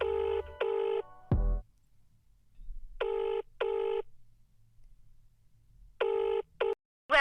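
A phone call is being dialed, with clusters of bright keypad tone beeps in short bursts separated by quiet gaps. A low thump comes between them, and a brief rising electronic chirp follows at the end.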